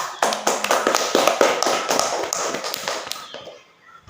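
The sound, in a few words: applause from students in a training session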